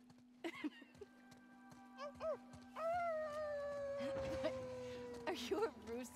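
A character in The Last of Us Part II imitates a wolf howl with a drawn-out, slowly falling vocal tone, preceded by brief speech and accompanied by quiet game sounds and a steady low hum.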